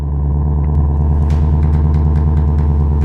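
A Shelby Mustang GT500 in manual mode roars loudly and continuously up close, its deep engine note steady and powerful with brief clattering ticks over the drone and no talk.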